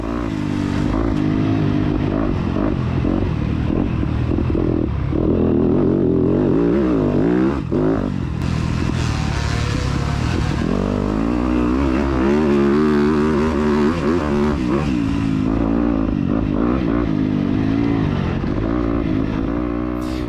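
Electric-start dirt bike engine climbing hills during a cross-country race, a loud rasping motor that revs up and down with shifting pitch and clattering bumps over about twenty seconds, close and continuous.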